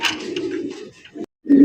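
A pair of Russian Angel pigeons coos in short, soft, close bursts, with a brief pause before a final louder coo.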